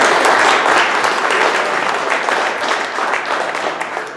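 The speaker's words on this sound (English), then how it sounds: "Another round of applause, please, for these guys" A crowd at a Denver event for Larry Walker's Hall of Fame honor gives a loud, sustained round of applause, thick and steady, easing slightly toward the end.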